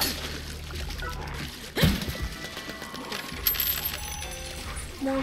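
Metallic clinks and jingles of coins dropping in the video game Let It Die, with a sharper clatter near the two-second mark, set against a steady hum of game background noise.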